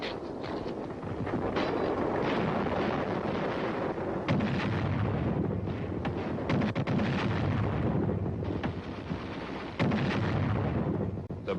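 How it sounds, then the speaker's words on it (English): Bazooka fire amid Korean War hill fighting: a dense, continuous barrage of loud booming blasts and rattling gunfire, with heavier thumps recurring every few seconds throughout. "The bazooka."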